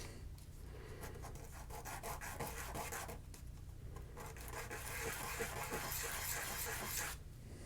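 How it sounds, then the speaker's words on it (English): A plastic track selector button from a Lafayette 8-track player is sanded by hand, giving faint, uneven rubbing and scratching strokes that come close together. "So this track selector button I'm just going to sand down."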